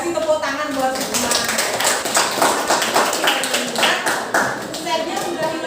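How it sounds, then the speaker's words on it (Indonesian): A class of students applauding in a classroom, a steady patter of many hands clapping at close range, with voices mixed in throughout. "Kasih tepuk tangan buat semua"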